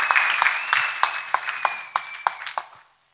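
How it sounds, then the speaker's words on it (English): A church congregation claps along during a testimony service, the applause loud at first, then thinning into a series of distinct, sharp claps roughly every third of a second before fading out. A sustained tone rings beneath the early claps. "People of God, clap your hands for Jesus Christ."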